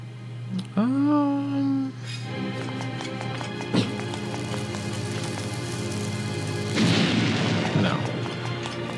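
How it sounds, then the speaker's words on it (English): Bombs explode in the video game Zelda: Link's Awakening, with a few loud booming blasts over chiptune-style game music and a rising tone, while someone talks. "I guess we gotta start bombing."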